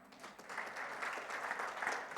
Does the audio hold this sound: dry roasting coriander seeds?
no